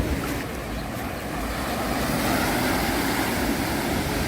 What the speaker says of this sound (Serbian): Talasi.